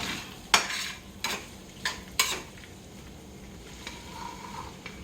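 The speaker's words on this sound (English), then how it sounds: "Brown the meat." Ground beef, 80-20, browns in two skillets, a spatula clanking sharply against the pan four times over a soft, steady sizzle, with no voices.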